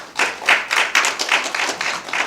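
A lecture hall audience at a periodontal society talk on gums and skin disease applauds in a short burst, a brisk patter of many hands clapping at close range for a couple of seconds.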